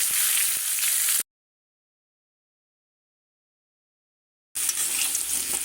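Potatoes frying with turmeric and salt: a close, steady hiss of sizzling oil, cut off by a long stretch of total silence before the same frying sound returns, with no voices.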